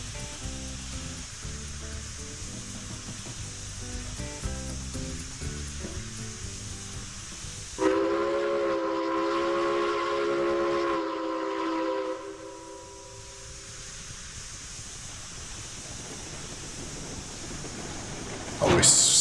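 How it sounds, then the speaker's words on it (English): A steam locomotive pulls away in the train simulation game Railroads Online, hissing and clanking, then sounds one long, loud whistle blast of about four seconds midway before the hiss resumes. "Then we're going to get the train and off we go."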